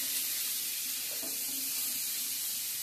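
Eggplant and peas frying in a pan with salt and turmeric give off a steady, soft sizzle, with faint scraping as they are stirred, close and continuous with no talk.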